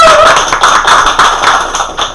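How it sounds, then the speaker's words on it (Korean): An audience at a policy-funding forum in Suwon claps together, a loud, fast patter of many hands that swells and dips slightly over two seconds, with no talking. "박수!"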